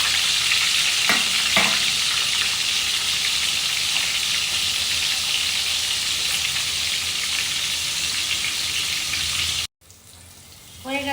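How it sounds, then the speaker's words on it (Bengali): Pieces of pointed gourd and an eggplant frying in hot oil, a dense, loud, continuous sizzle close up that cuts off abruptly near the end before a brief scrape. "পটলগুলো আমি তেলে ছেড়ে দিলাম,"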